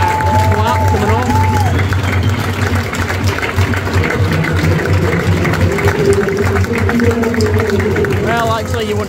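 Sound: stadium crowd clapping at Ibrox football match

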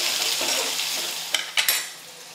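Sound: onion and curry leaves frying in pan

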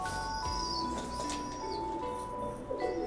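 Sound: female pigeons cooing

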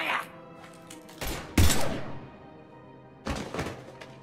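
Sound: gunfire in the video game Mass Effect 3

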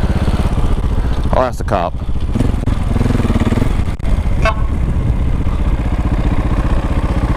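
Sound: motorcycle riding in winter traffic

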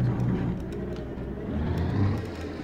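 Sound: Marcopolo Viaggio G4 bus driving in a video game mod

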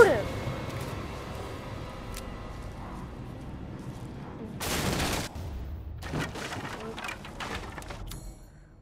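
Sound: gunshots in the video game Resident Evil Village

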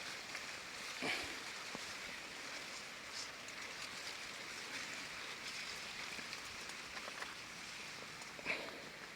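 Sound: irrigation water flowing along sugarcane furrows

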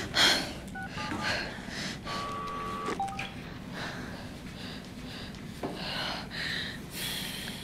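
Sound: telephone dialing tones while trying to call

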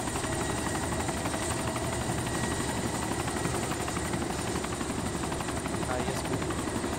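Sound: helicopter landing in video game DayZ

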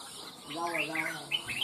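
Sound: red-whiskered bulbul (chào mào) singing

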